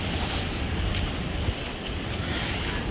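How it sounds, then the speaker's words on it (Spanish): Big ocean waves surge and flood a street along the Havana seafront, a continuous loud roar of rushing water and surf mixed with gusty wind buffeting the microphone. "Cada vez que viene una ola grande, todo esto se inunda."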